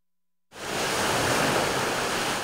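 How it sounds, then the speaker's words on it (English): Ocean surf washes ashore on a beach, a dense, steady roar of breaking waves that swells in after a brief silence and holds loud and continuous to the end. "Waves wash shells ashore"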